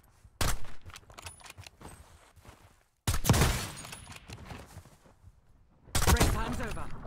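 Gunfire in the video game Warzone, with three loud bursts of rapid shots separated by short pauses, close and sharp over a low game background.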